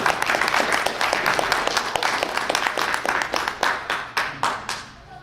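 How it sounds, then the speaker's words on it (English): Audience clapping at a seaside-themed furry convention Jeopardy game, a dense round of close hand claps that thins out toward the end into a few scattered individual claps. "Give the shark a round of applause for that."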